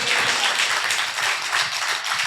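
Steady, dense clapping from a church congregation fills the room, loud and continuous with slight swells, no voices over it.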